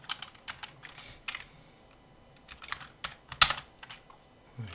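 Keys clack on a computer keyboard while a Mitsubishi PLC is being programmed, in scattered short bursts with pauses between them and one sharper, louder keystroke near the end. The typing is fairly quiet and stands alone, with no talking.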